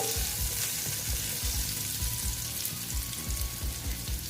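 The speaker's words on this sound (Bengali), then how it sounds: "আমি একটু একটু নেড়ে চেড়ে নিচ্ছি আলুটা" Potatoes frying in a pan crackle with a loud, continuous sizzle, and rhythmic scraping and stirring strokes from a utensil recur up close.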